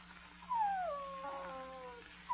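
A puppy in an old radio drama gives a single drawn-out whine that falls and wavers in pitch, moderately close over a low background hum.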